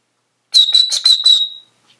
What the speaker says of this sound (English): It also has a survival whistle with it right here.